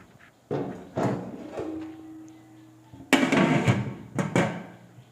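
A lid set onto a biryani cooking pot, heard as several sharp clanks and thuds spaced a second or two apart, with rattling metallic clatter in the middle, close and fairly loud.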